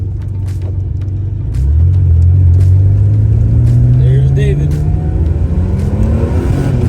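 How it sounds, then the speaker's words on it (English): A Porsche accelerates hard as its turbo boost builds, the engine rising into a loud, close, climbing roar inside the car while people talk over it. "every time this boost hits on this car, it's crazy."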